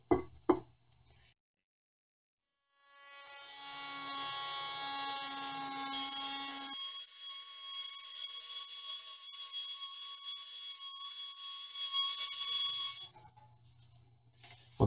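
A small electric sander smoothing the cooking surface of a Lodge cast iron skillet gives a high, whining buzz with tonal overtones, starting after a brief silence and running steadily for about ten seconds before cutting off.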